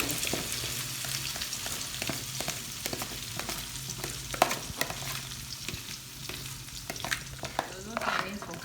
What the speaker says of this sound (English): I'll be adding my egg and I just cook it.